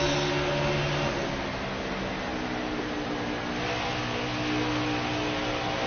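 A stock car engine in NASCAR Heat 4 drones at steady high revs, a continuous mid-pitched roar from inside the race with no voices.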